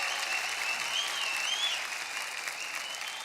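Audience applauding a singer on a comedy stage show, a steady, dense wash of clapping from a large crowd with a faint whistle-like tone running through, sustained and even throughout.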